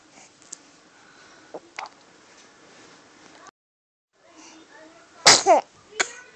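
One sharp, close sneeze bursts out after a stretch of quiet breathy sounds and small noises.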